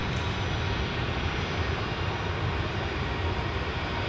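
Airliner inbound to MSP airport from Grand Rapids on a winter day, heard as a steady, broad jet engine roar that holds at an even loudness throughout with no voices.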